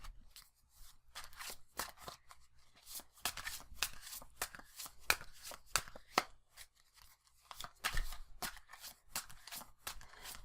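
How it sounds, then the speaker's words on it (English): A small handful of tarot cards being shuffled by hand at close range, quiet papery riffles and sharp flicks in an irregular rhythm, with soft taps and rustles in between. "I think you can hear that I'm shuffling"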